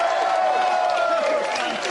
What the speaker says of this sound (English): Let's have a little round of applause there.